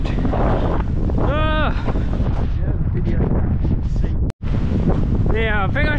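Strong wind buffets the microphone on Granite Island near Adelaide, a loud continuous rumble of gusts lasting throughout, with someone talking over it and a brief dropout near the end.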